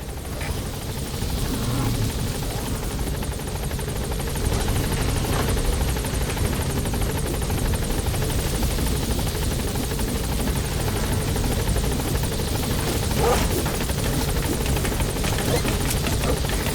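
A helicopter touches down in the video game Metal Gear Solid 5: The Phantom Pain, its rotor a loud, steady, close roar that holds throughout with no talk over it.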